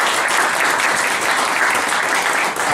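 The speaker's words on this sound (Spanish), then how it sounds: "Un aplauso para la compañera Diana Moreno." A roomful of people claps for a candidate for Ecuador's Assembly during a campaign visit in Stockholm, the applause thick and sustained at an even level before easing slightly at the very end.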